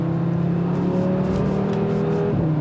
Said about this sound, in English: they have these really nice burbles from the exhaust.